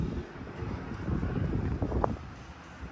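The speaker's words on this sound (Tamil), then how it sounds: "நல்ல காற்று வருது, சில்லுன்னு நல்லா காற்றடிக்குது" Wind blows steadily across an open balcony of a house in Avadi, a continuous close rumble of gusts against the microphone, with faint background sounds and no talking.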